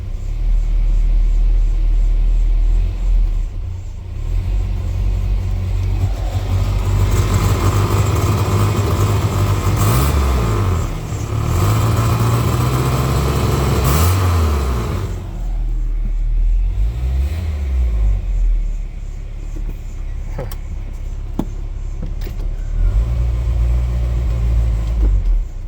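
A 1994 Ford Ranger with a 2.3L four-cylinder engine idling roughly, a steady close low rumble with uneven dips and surges in the engine note throughout, no voices.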